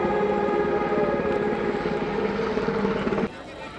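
A helicopter dropping flowers over a Republic Day parade in Kolkata drones loudly and steadily overhead, its rotor noise filling the scene before cutting off abruptly near the end.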